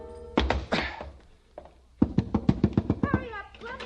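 A dull thud as a man lands on the floor after dropping through a skylight pane in a noir radio drama, set among voices and other sounds at moderate level.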